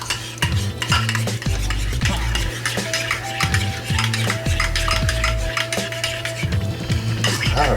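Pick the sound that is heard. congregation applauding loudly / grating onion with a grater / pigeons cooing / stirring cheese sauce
stirring cheese sauce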